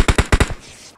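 Gunfire in the mobile battle game PUBG Mobile: a fast burst of four or five loud, punchy automatic shots, then a fading echoing tail, with no talk over it.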